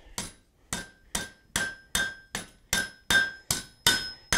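A hammer strikes hot steel laid over the edge of an anvil while forging a cooking trammel: about eleven sharp, ringing blows in a steady, even rhythm, close and loud with no talking.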